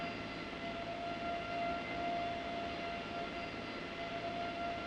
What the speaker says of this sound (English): When she's blocking in or blocking out, everyone around or near the C-5 faces a serious noise problem